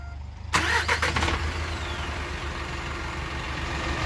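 A Hyundai All New Mighty truck engine cranks and catches about half a second in, with a few loud bursts as it fires up, then settles into a steady, close, rumbling idle that continues to the end.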